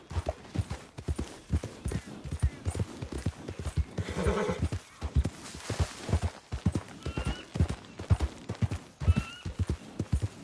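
A horse's hooves clip-clop in a brisk, regular rhythm close by, broken midway by a loud, drawn-out neigh and whinny, with faint snorts toward the end.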